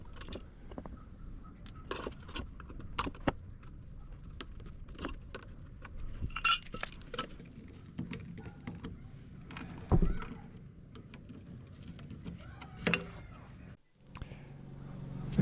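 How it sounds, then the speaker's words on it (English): Nuts and bolts being fitted to fix legs onto metal brackets: scattered metallic clinks, small taps and jangles at close range, irregular and fairly quiet. "I'm going to bolt these legs onto the brackets here"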